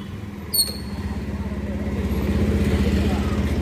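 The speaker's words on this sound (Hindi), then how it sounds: "वो बाइक लेकर आ रहा है अभी" A motorcycle pulls up at night in light rain, its engine rumbling steadily and growing louder as it draws near, with a brief squeak early on.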